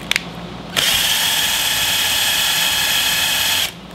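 Cordless drill driving a drywall screw into wood for a DIY solar parabolic mirror mount, a steady close whine running for about three seconds after a short pause, then stopping abruptly.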